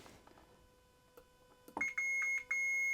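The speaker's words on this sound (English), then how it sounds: "We can even test the continuity of this screwdriver." A multimeter on continuity mode touched to a solid metal screwdriver gives a sharp electronic beep. A few short chirps come first, then a sustained tone that cuts out briefly and comes straight back, all close and clear.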